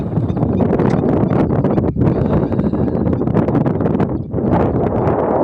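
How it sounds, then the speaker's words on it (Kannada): Loud, steady wind at the KRS reservoir backwaters near Mysore buffets the microphone, a rough roar that barely lets up. "ಯಾಕೆ ಬೇಡ ಅಂತ ಗಾಳಿ ಬೀಸ್ತಾ ಇದೆ"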